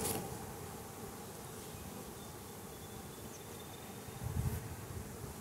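Bees from an overwintered nuc hum in a soft, steady drone close by, with a brief louder buzz of one passing near the end and no voices.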